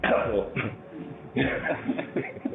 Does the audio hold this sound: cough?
yes